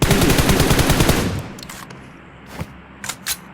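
A rapid burst of automatic gunfire in a video game rattles loudly for over a second, then fades into a few scattered single shots.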